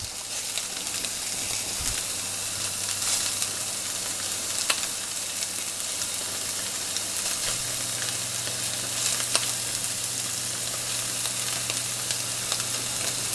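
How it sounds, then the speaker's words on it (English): Sausage frying in a pan for biscuits and gravy, a steady dense sizzle with crackling pops that holds at close range for the whole stretch, with no voices over it. "And now we're going to throw in the sausage."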